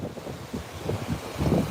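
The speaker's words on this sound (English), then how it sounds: "The water's coming in pretty high. High tide." Ocean waves wash in at high tide, a steady low rush of surf that swells toward the end, mixed with wind buffeting the microphone and no voices.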